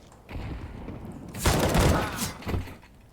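Bursts of rapid gunfire in a video game ring out loud and close, with a dense volley that peaks and then trails off into a few scattered shots.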